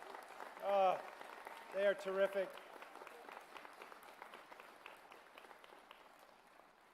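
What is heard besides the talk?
audience applause for the facilities crew at a college commencement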